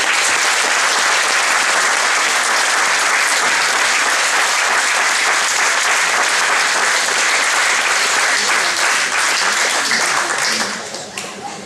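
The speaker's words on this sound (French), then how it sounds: "je vous demande de l'applaudir" A crowd at a judo club's season celebration applauds loudly and continuously, a thick burst of clapping that holds for about ten seconds before fading away near the end.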